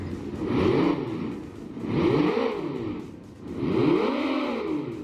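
Three rising and falling revs of a synthetic engine sound, like a small kart motor played through a loudspeaker, rhythmic and fairly close.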